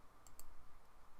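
Two quick mouse clicks close together, faint and sharp, over a quiet background hum.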